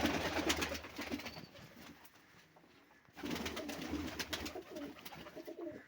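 Pigeons coo at a bird shop, two bursts of throaty repeated cooing close by with a quieter pause between them.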